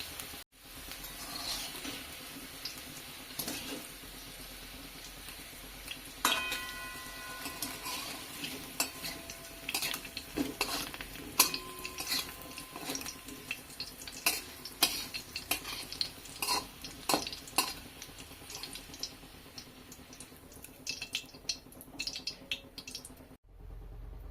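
Potato pieces frying in oil in a pan: a low, steady sizzle runs throughout while they are stirred and lifted out, with scattered utensil clinks and scrapes close by and no speech.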